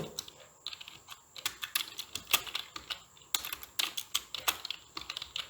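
Fingers type quickly on a computer keyboard, close and clear, in bursts of crisp clacking keystrokes with short pauses between them and no talking.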